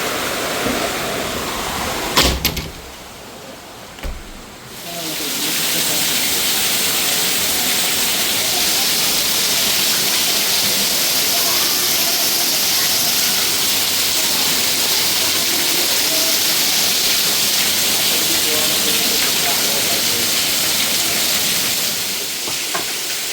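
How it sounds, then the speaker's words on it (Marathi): Heavy rain pours down outdoors during Diwali, a dense, loud, steady hiss that runs almost without a break after a brief quieter gap with a couple of sharp knocks early on. "पाऊस जोरात जोरात म्हणजे जोरात पडायला लागले"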